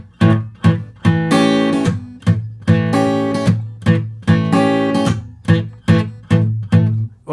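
Hill country blues guitar phrase, loud and close, with rhythmic percussive strumming: sharp muted chops alternating with ringing chords in a steady, driving pattern, no voices.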